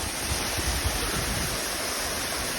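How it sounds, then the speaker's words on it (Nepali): Tin Dharma waterfall roars with a dense, continuous rush of heavy water, loud and close with no break. "अहिले पनि पानी चाहिँ बवालै रहेछ"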